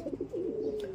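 Racing pigeons coo softly at close range in a single brief, low burbling call, fairly quiet with no voices.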